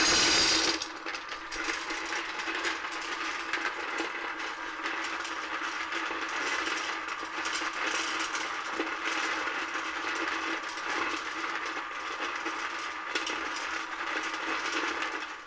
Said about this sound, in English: it's time to start up the bullet feeder